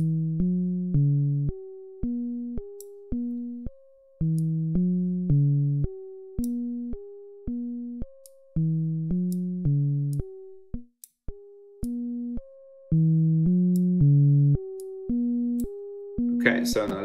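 A simple repeating modular synthesizer melody of bright, blocky electronic tones from VCV Rack, evenly paced with faint clicks at note changes, ending in a brief noisy burst.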